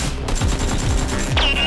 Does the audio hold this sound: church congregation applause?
no